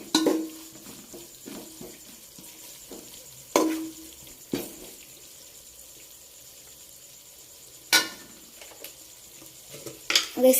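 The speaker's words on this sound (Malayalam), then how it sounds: "നല്ല ഇളക്കി കൊടുക്കണം കേട്ടോ." A spoon stirs a thick mango pickle mixture in a pot, giving a handful of sharp scrapes and clinks spaced several seconds apart, with a soft low background between them.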